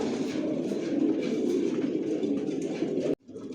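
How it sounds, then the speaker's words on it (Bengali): Adult racing pigeons coo in a loft, their low, rolling calls overlapping close by and continuing steadily until a sudden brief cut near the end. "ভিউয়ার্স দেখতে পাচ্ছেন এখানে সব অ্যাডাল্ট কবুতর"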